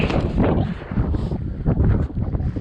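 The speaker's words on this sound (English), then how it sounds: "Wind's starting to pick up" Strong wind buffets the microphone outdoors on the ice during a wilderness ice-fishing trip in the north, a loud, close, gusting rumble that rises and falls without a break.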